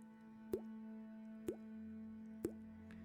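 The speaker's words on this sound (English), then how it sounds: "Here, water drips throughout the darkness." Water dripping in darkness inside a whale as an ambient sound effect: three clear, evenly spaced plops about a second apart over a low steady drone, faint and echoing.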